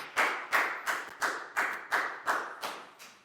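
A class of pupils clapping for a classmate in a Year 4 English lesson, a steady rhythmic series of about nine sharp, evenly spaced claps in unison.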